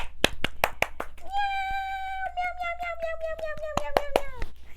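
Sharp handclaps ring out in a quick irregular series, then a drawn-out falling meow sung by a voice imitating a cat runs through a further flurry of claps during a children's storytime.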